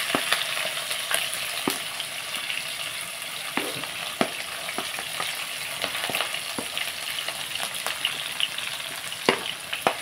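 Green chillies and onions frying in hot oil, a dense continuous crackling sizzle with repeated spatula scrapes and clicks against the pan, steady and fairly close.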